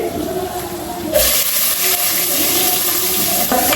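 Small onions and curry leaves dropped into hot oil, with a sudden loud burst of sizzling and hiss partway through that stays strong and continuous, close up.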